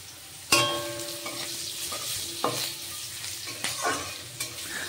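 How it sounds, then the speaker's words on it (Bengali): Potato pieces frying in leftover oil from dry fish, tempered with nigella seeds, in a home kitchen: a steady close sizzle with sharp stirring scrapes at intervals, no talk. "আলুটাকে একটু ভেজে নেব।"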